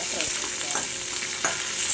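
Chutney ingredients such as green chillies, garlic and spices sizzle steadily in a pan while a spoon scrapes through them now and then, a continuous close hiss with soft stirring strokes and no voices.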